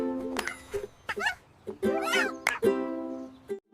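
A cat, or kitten, meows several times in quick succession: short, clear, tonal calls with gaps between them, close and fairly loud against a quiet background.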